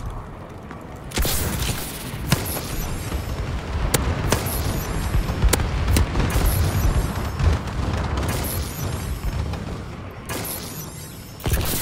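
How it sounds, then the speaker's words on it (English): Repeated booming blasts from a friendly bombing run in the video game Call of Duty: Advanced Warfare, loud and continuous with sharp cracks and rumbling impacts layered over dense battlefield din. "Friendly bombing run incoming."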